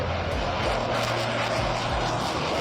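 Military jets take off during a large air training exercise in Konya, a loud, continuous engine roar filling the air with a low droning hum beneath it.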